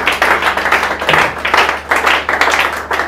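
A church congregation claps in rhythm while acclaiming Jesus, loud close hand claps in steady repeated bursts with a brief pause in the middle.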